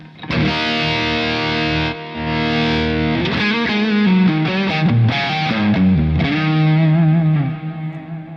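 An electric guitar played through boost and compressor pedals into a clean amp rings out loud and sustained, held chords giving way to a run of single-note lead phrases with saturated, compressed tone.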